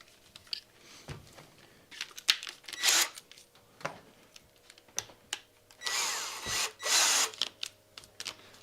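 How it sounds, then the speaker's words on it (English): A power drill whines in short bursts while boring holes in plastic, with clicks and handling noises between the runs, close by. "I will drill the other holes from this side"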